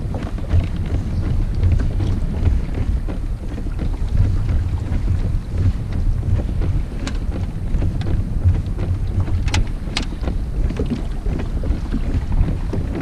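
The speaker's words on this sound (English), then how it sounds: "the wind picked up all of a sudden. It's blowing steady 15 plus" Strong, steady wind of 15-plus on whitecapping water while kayak fishing, roaring across the microphone with sloshing water and small knocks against the boat, loud and continuous with no talk.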